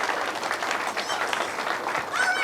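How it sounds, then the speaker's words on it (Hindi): Audience applause at a Hindi comic poetry gathering, a dense, steady wash of many hands clapping throughout, with faint voices mixed in. "तो एक बार जोरदार तालियां प्राची मिश्रा जी के लिए हो जाए।"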